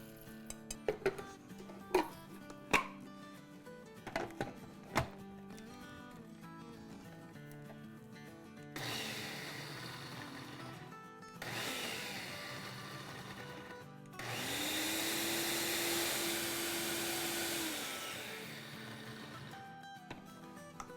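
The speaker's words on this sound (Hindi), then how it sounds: "चले इसको हम दरदरा सा पीस लेते हैं" An electric spice grinder coarsely grinding whole coriander seeds with dried red chillies and cumin, preceded by hard clicks and knocks, then three loud whirring bursts of the motor, each stopping abruptly, the last one longest.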